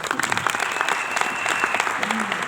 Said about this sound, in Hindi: रजत के लिए भी तालियां बनती है।